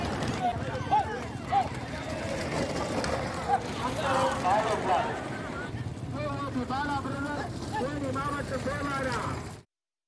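Hooves clip-clop in a horse and bullock cart race, a rapid patter heard under continuous talk amid crowd and vehicle noise, cutting off abruptly.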